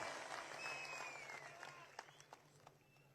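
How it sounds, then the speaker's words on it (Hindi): Faint applause from an audience at a political speech, a dense wash of clapping that thins out into a few distinct, louder individual claps toward the end. "तालियां बजाइए इनके लिए"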